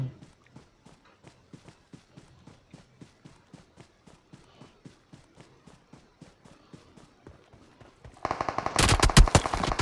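Gunfire in the battle royale game PUBG Mobile, with rapid footsteps pattering steadily at first, then a loud burst of automatic fire near the end.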